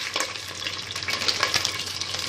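Vermicelli fries in butter and oil, giving a soft, steady sizzle with light crackles and stirring scrapes close by, heard alone.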